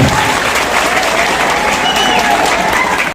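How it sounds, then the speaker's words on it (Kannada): Loud, dense applause from a college audience at a cultural, sports and NCC function, steady sustained clapping filling the hall for a few seconds before cutting off abruptly. "ಜೋರ ಚಪ್ಪಾಳೆಯಿಂದ ಅವರಿಗೆ ಮತ್ತೆ ಧನ್ಯವಾದಗಳನ್ನು ಕೆಲಸ"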